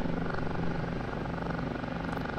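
An OH-58D Kiowa helicopter in the DCS flight simulator settles into a hover under autopilot, its rotor and engine making a steady, loud, continuous drone with a rapid, even rotor pulse and no voices.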